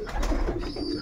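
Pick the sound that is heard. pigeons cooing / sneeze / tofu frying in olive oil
pigeons cooing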